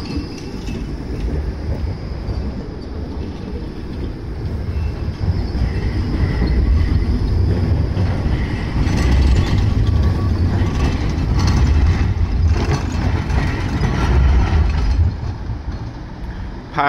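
Trams turning at the Sonnensteinstraße stop, a continuous rumbling rail noise with wheel and track clatter that grows louder midway and stays steady throughout, with no voices.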